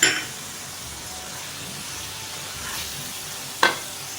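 Masala with green coriander and green chillies frying in a pan for spicy grilled chicken curry, a steady soft sizzle with a sharp clink of utensil against pan at the start and again near the end.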